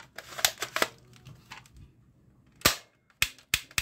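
A toy revolver cap gun fires a burst of sharp cracks, then several more single pops after a pause, loud and close with quiet gaps between shots.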